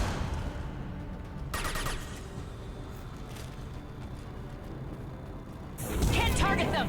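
Sniper gunfire crackles through a battle in the video game Mass Effect Legendary, sharp shots scattered over a steady rumble of combat noise, with a louder burst of clatter near the end.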